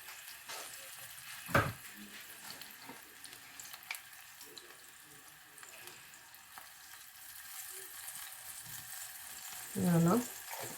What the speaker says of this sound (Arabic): فوالا نخليوه يتقلى مع بعضه